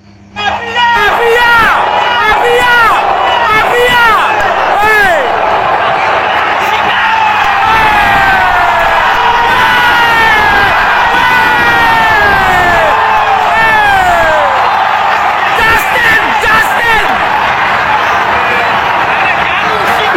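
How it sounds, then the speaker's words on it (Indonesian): A football stadium crowd at an Indonesia versus Bahrain match shouts and chants loudly and without a break, a dense roar of many voices with rising whoops throughout. "semua teriak mafia tuh"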